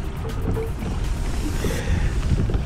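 Kayak paddling on a shallow stretch of water while trout fishing on opening day in New Jersey, with steady water and wind wash and soft intermittent paddle splashes close to the microphone, no talking.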